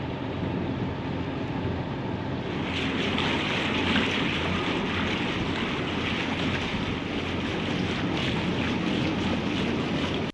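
Sailboat Basik crosses a tidal bore on the ebb tide out of a bay, a constant rush of water and wind buffeting the microphone, loud and unbroken with no talk.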